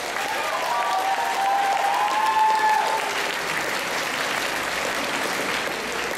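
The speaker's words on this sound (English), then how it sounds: "Big round of applause for these folks." Audience applause at an anime fan convention awards ceremony, a steady loud wash of clapping with crowd cheering and whoops over it for several seconds.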